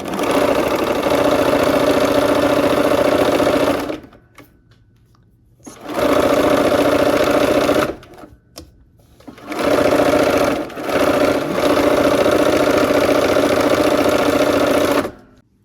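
A sewing machine runs in three long steady bursts while stitching a quilt block seam, loud and close, with short quiet pauses between runs.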